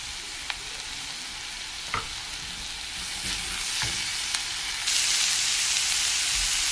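Onion, ginger and garlic sizzle steadily in a hot pan while a spoon scrapes and stirs in occasional sharp clicks, the frying hiss swelling louder near the end with no voices.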